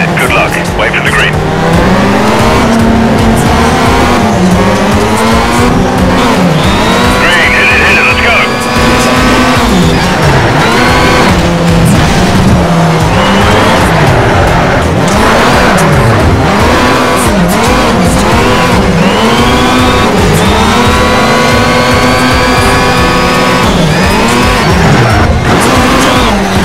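Race cars roar continuously through a final lap in Need for Speed Shift, Japan Series, with rising and falling engine pitch, gear shifts and occasional tire squeal, loud and sustained under a voice talking.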